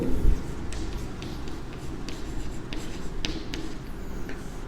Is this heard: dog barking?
no